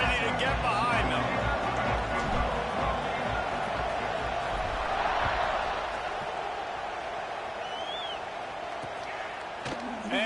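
A stadium crowd roars in the college football video game NCAA 26 before a kickoff, a broad steady wash of cheering that eases slightly, under an announcer's commentary.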